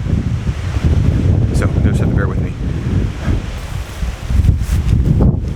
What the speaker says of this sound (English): Really sorry about the wind.